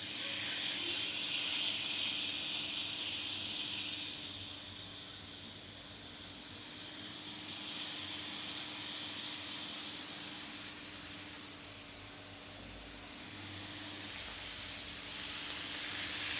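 Steak sizzling in a film of oil in a frying pan, a loud continuous hissing fry that swells and eases in slow waves, with no talk over it.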